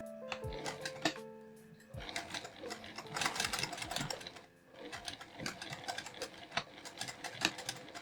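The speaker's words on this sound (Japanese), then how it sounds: "端布をミシンで縫います。" A sewing machine stitches a fabric scrap onto the end of a zipper for a quilted nubi pouch, its needle running in bursts of rapid mechanical whirring and clatter, close and steady with brief pauses between runs.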